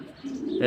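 Lahm and King breed pigeons give a short, close coo, a low throaty hum that swells into a louder warbling note at the end, with no talking.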